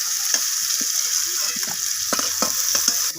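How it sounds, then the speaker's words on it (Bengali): Potatoes fry in hot oil with a steady, close hiss, broken by soft clicks and scrapes of a utensil moving them around the pan; no voices. "তো এরপর আমি ওই তেলের মধ্যে আলুগুলোকে দিয়ে দিচ্ছি।"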